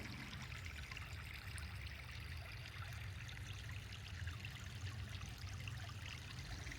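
Water from a backyard pond waterfall trickles and burbles over rocks in a soft, continuous flow, faint and steady throughout.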